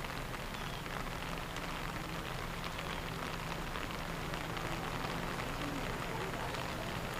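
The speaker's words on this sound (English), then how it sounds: "It's only rained for about five minutes" Light rain falls steadily on a golf course, a soft even hiss of drops with faint voices underneath.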